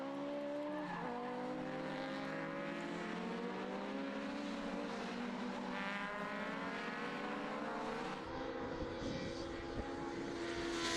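Legends race cars at Anglesey circuit heading down towards the hairpin, several engines whining and shifting pitch together in a loud continuous roar.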